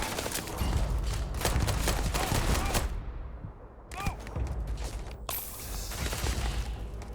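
Dense sci-fi gunfire in a Starfield battle, with rapid overlapping shots and mechanical clatter, a short quiet gap in the middle, then the shooting resumes loud and close.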